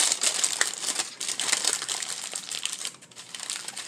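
Aluminium foil packet being handled and crinkled, a continuous close, crackly rustling with sharp crisp peaks that eases briefly near the end.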